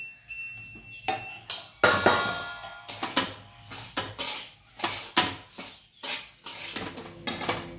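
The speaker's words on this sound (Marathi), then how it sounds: "इथं मला घेतली मी भगर आता आपल्याला दळायची, म्हणून मी थोडीशी भाजून घेते" Barnyard millet (bhagar) being dry-roasted in a pan, with repeated clinks and scrapes of a utensil against metal in an uneven rhythm, close and fairly crisp, with no one talking.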